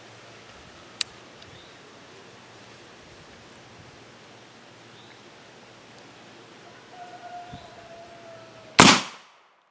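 A single sharp black powder gunshot from a charge of 40 grains of 3F powder, primed with a plastic cap gun cap over a black powder primer charge, bursts loudly and decays quickly after a quiet outdoor stretch.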